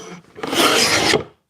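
A hand scraper shaves across a small wooden table top in one long, steady rasping stroke, loud and close, with a short lighter scrape before it and silence after.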